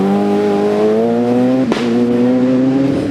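A Toshiba-sponsored Ford Escort rally car on a 1998 Lurgan Park stage howls along at loud, close range, its engine note holding steady until a sharp jolt as the brakes lock, then the revs pick up again as it carries on.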